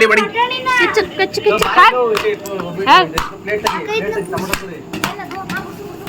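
A knife chopping ingredients for grinding at a family birthday gathering, a series of sharp, irregular chops on a board, close and clear, with people chatting throughout.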